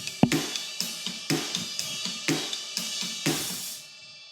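A drum fill on a kit, with sizzling open hi-hat washes over sharp snare hits and low kick thumps in a steady, syncopated run of about eight strokes, close and loud, ending in a ringing cymbal decay.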